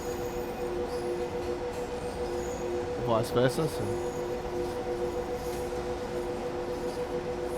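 Train rolling along the track in the Train Sim World 2 game, a steady low rumble with a brief metallic squeal of wheels in the middle, heard under someone talking.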